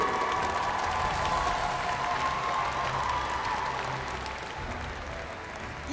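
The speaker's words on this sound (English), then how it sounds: "let's give a big round of applause" A crowd applauds and faintly cheers at a Mobile Legends M5 esports knockout match, a broad, sustained wash of clapping from a large arena audience that slowly tapers off.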